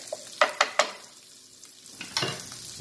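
Butter, ginger and garlic stirred in a pan for an elk venison stir fry: a few sharp scrapes of the utensil in quick succession, then a softer sizzle and another scrape, close and clear with no talking.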